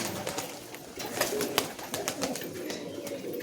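Giribaz, Allahabadi and Benarasi pigeons coo steadily while feeding, a dense, continuous, moderately loud murmur of many birds close by, scattered with faint pecking clicks and no voices.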